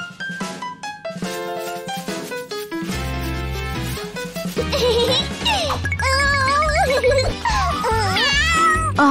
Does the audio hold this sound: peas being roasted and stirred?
no